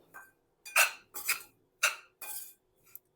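Amla pickle being stirred with salt and chili flakes, utensil clinking against a dish in five or six short separate bursts, close and fairly quiet with pauses between.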